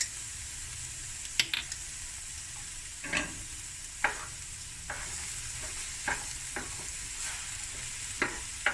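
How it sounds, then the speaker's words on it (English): Garlic, ginger, meat and cumin seeds sizzle and fry in a very large frying pan, with scattered stirring scrapes and soft clatters popping up every second or so over the steady hiss. "And then I'm going to add my garlic, ginger and my meat."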